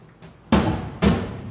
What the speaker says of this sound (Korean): 이렇게 삶아졌으면 그대로 체에 내려서 개수대에